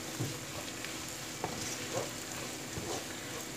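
Çorum bulgur frying in oil in a home kitchen gives a steady close sizzle, with a few soft scrapes and taps as it is stirred around the pan.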